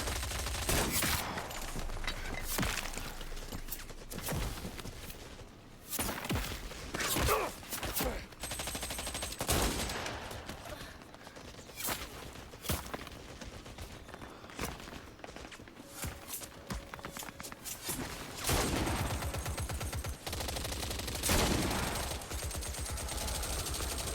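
Sustained gunfire and machine-gun bursts in the action adventure game Indiana Jones and the Great Circle, mixed with running footsteps and loud impacts, rising and falling over a long chaotic stretch.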